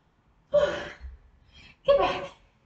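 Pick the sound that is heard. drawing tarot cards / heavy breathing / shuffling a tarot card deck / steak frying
heavy breathing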